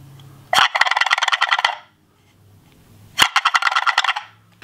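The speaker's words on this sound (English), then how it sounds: "It's a wild turkey." A male wild turkey lets out two loud, rapid rattling gobbles, each lasting about a second, with a short quiet gap between them.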